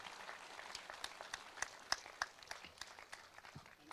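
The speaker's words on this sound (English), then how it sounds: "I'm sure you'll join me in applauding the absolutely scintillating presentation" Audience applause following a presentation at a conference day, a faint, scattered patter of claps with a few sharper individual claps standing out, quiet and steady throughout.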